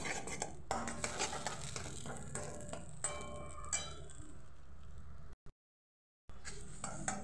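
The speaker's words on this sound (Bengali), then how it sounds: "নাড়তে থাকবেন, অনবরত নাড়তে থাকবেন।" A spoon keeps stirring and scraping through a pan of Bengali sim (flat bean) vorta, making quiet repeated metallic scrapes and clinks, broken by a brief moment of silence.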